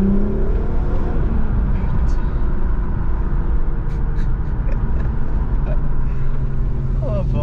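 A Volkswagen Golf 4 R32 engine runs with a steady, loud, deep mechanical rumble and some revving throughout, while people talk over it.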